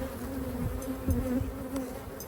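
Honey bees buzzing steadily at a hive outdoors, a close, continuous drone with individual insects swelling louder as they fly near the listener, no talking.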